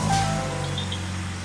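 A Kia Sportage with the G4KD engine and no catalytic converter fires up and settles into a steady, loud idle, its low drone holding evenly throughout, with no one speaking.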